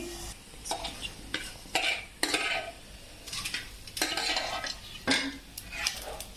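Curry leaves, cumin and mint fried in a pan for mint tomato chutney. Repeated close scraping stirs scratch against the pan over a soft sizzle, with no voices.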